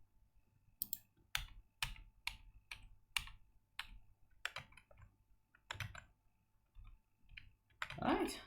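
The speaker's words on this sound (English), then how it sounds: "I'm just typing here." Keys clatter on a computer keyboard in uneven bursts of close clicks and taps, with short pauses between runs while someone codes a command-line program in C.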